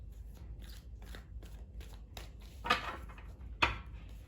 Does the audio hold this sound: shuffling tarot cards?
yes